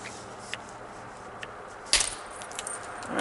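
A single sharp percussion strike detaches a flake from Georgetown flint during knapping, a brief bright crack near the middle, followed by faint small rattles, otherwise quiet.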